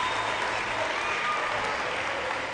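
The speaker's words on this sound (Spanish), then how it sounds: "De todas formas, recibe el aplauso del respetable" Spectators at an international weightlifting Grand Prix give steady, dense applause after a lifter's attempt.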